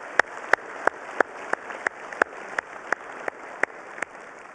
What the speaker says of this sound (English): I want to again give you a round of applause.